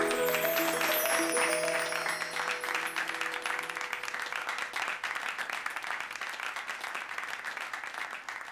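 Applause fills a sangeet celebration for a wedding and a marriage anniversary, a steady wash of clapping that holds loud and then thins slightly, with a few musical tones lingering early and no voices.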